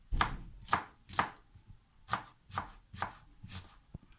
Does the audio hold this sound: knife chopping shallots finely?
yes